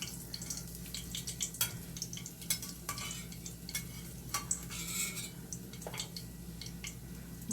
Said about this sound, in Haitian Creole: Mwen ap mette yon lot fri konya.